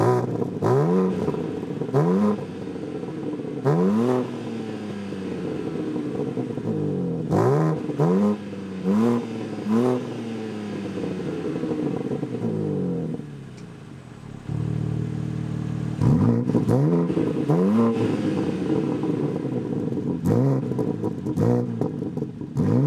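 A 2025 BMW M4 Competition xDrive engine revs repeatedly with an open exhaust, sharp rising blips followed by a rough idle, then more revs, loud and close.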